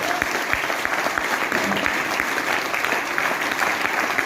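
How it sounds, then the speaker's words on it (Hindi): A seminar audience in Meerut claps for themselves, with a dense, continuous round of applause from a large seated crowd and some voices faintly beneath. "वो बारिश को चीर के यहाँ बैठने पर अपने लिए ताली बजा लो"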